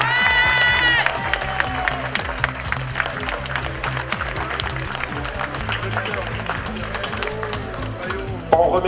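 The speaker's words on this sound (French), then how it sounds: "vos applaudissements qui seront destinés au vainqueur du classement général, Warren Barguil" Applause and cheering from a crowd at the final podium ceremony of the 2012 Essor Breton cycling race, honouring the overall winner. Dense clapping runs steadily throughout, with music and voices mixed in at the start.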